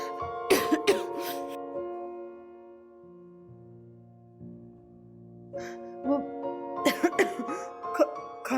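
A woman coughs in a few harsh bursts, pauses while soft music plays, then coughs several more times, close and loud.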